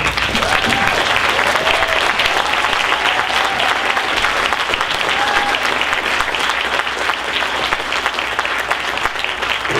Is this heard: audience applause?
yes